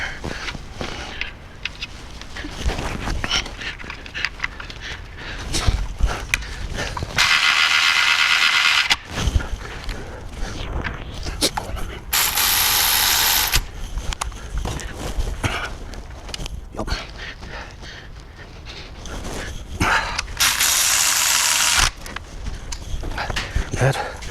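A power drill drives bolts in during a cam phaser swap, with three separate whirring bursts of a few seconds each, set among clanks and shuffling workshop noise.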